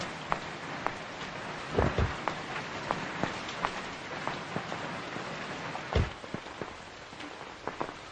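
Heavy rain falls steadily in an unbroken hiss, broken by several sharp drips and taps and a couple of low, deep thuds, moderately quiet overall.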